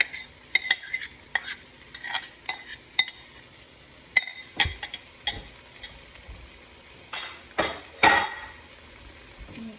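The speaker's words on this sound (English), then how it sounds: "go ahead and mix that all up really well" Cooked Spanish rice being stirred into a pan with a utensil, giving a run of scraping, clinking strokes at an uneven rhythm over a faint sizzle, close by with no talk.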